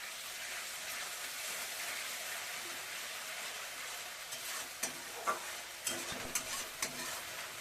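A steady soft sizzle of spice paste frying in oil, joined midway by several sharp scrapes and knocks of a spoon stirring the pan, for a Bengali fish curry.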